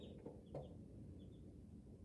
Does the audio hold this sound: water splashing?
no